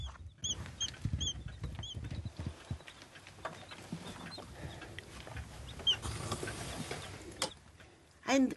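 Baby chicks kept warm under a bulb, one of them sick, give a few thin, high peeps early on amid rustling and handling noise, with low voices underneath.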